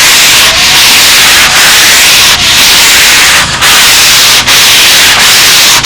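Loud, steady sanding: sandpaper glued to glass rasps back and forth in continuous strokes over two model-aircraft parts at once, with brief dips marking each change of direction.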